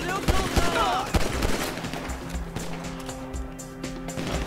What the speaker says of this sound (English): Alright, we're going to pistol this out.